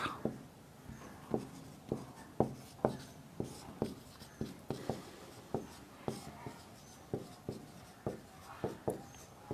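Chalk or marker writing on a classroom board, a quiet, steady series of short tapping strokes and scratches in an uneven rhythm, heard close with no voice over it.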